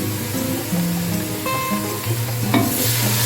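Ginger garlic paste frying with browned onions in a pan for a beef yakhni pulao, giving a steady close sizzle with stirring scrapes and small pops throughout.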